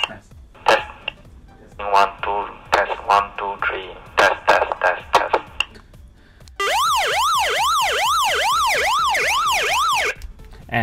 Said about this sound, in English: And that is some kind of a siren.